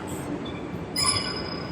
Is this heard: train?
yes